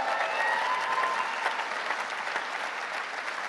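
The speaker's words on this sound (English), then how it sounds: "big cheer for Jackie" Applause from a large audience at the Labour Party conference in Liverpool, a dense steady clatter of clapping that holds evenly throughout with a faint murmur of crowd.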